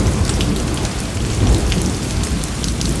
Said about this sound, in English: The storm passes.